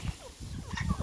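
Crested hens in a backyard coop give short, close clucks and gobble-like calls in a brief burst, with no talk over them.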